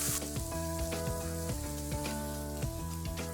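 Onions frying golden brown in a restaurant-style kitchen pan, a steady broadband sizzle running throughout with regular clanks of a utensil scraping the pan, loud and close, no voices.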